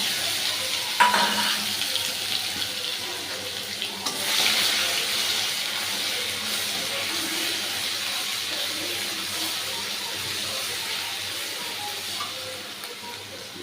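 Four dried red chillies and ginger-garlic sizzle in hot frying oil with already fried chicken pieces, a loud, steady close-up hiss that swells around the four-second mark, with faint clatter and no voices.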